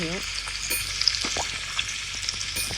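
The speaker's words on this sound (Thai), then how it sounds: "เราต้องทำให้เนื้อมันสุก" A meat patty frying on a grill in a Roblox burger restaurant game makes a continuous bright sizzle with light scraping ticks, fairly loud and close, with a brief voice at the very start.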